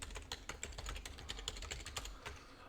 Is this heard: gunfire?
no